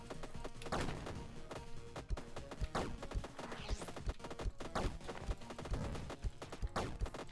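Towers in the roguelite deckbuilder game Gnomer fire in dense, rapid volleys, a continuous clatter of gunshot-like bursts and thumps at steady loudness with no talking.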